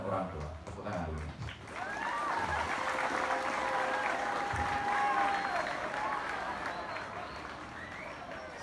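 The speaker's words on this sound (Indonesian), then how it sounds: "Tepuk tangan dulu" An audience at a dayah gathering breaks into sustained applause, a dense wash of clapping that swells and holds, heard at a moderate distance with a few voices mixed in.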